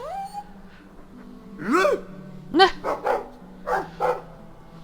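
A dog in the game Dragon Age II whimpers, then gives a string of short barks and yelps, close and clear, with a brief spoken word near the start.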